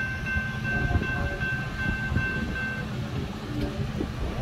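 An eastbound Amtrak passenger train rumbles past at close range, a steady low roar with rattling and a thin high squeal of wheels along the track.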